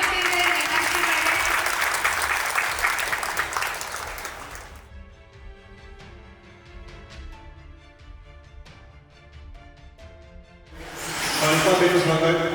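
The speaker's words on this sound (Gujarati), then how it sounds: "એક જોરદાર તાળીઓ થઈ જાય" Audience applause at a World Women's Day celebration held by a foundation, a loud burst of clapping for several seconds that dies down under quieter speech over a microphone, then swells again as a fresh round of applause near the end.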